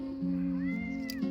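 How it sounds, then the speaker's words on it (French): A cat gives a drawn-out meow close by, a wavering tonal cry lasting about a second, with no talking. "Ça c'est le chat de la voisine."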